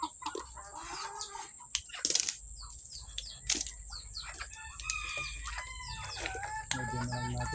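Farmyard chickens cluck and a rooster crows, kept in a pen alongside ducks, with sharp crows breaking through steady clucking and some wing flapping, fairly close.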